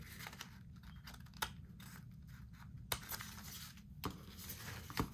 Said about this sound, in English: I'm gonna cut this a little more.